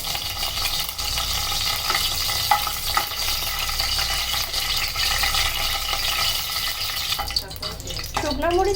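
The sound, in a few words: dried red chillies frying in hot soybean oil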